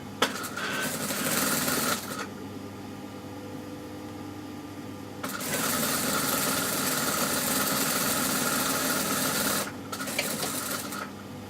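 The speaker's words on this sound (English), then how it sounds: "And then I'm just gonna quickly just hem the bottom as well." A sewing machine overlocks and hems the bottom of a garment, with a steady mechanical whir running in two sustained bursts separated by brief pauses, close and moderately loud with no talking.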